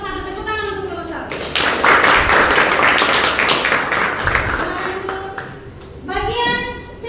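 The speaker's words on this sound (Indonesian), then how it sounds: "Tepuk tangan untuk kelompok 1." A classroom group claps for fellow students after a presentation, a burst of lively applause and tapping that swells then fades, with a voice speaking before and after.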